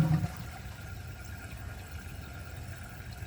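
Project Source Pro dual-flush toilet after a single press-and-release of the button: a brief gurgling burst at the start, then a faint, steady rush and trickle of water refilling, quiet and close, without talk.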